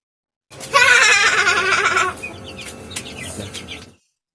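A loud, harsh squawking clamor of a chicken close up for about a second and a half, then quieter scattered clucks and rustling.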